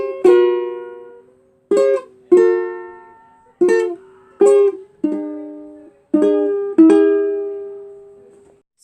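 Solo ukulele plays a song riff: bright plucked notes and strummed chords in an uneven, syncopated rhythm, each ringing out and fading before the next, clear and close with no voice.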